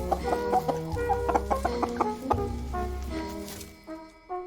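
Hens cluck in short repeated bursts, close and lively, fading toward the end with no speech.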